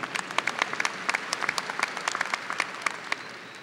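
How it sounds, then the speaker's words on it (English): Scattered, sparse clapping from a commencement crowd at a university graduation ceremony, individual claps distinct and fairly light over a few seconds. "So a little applause there"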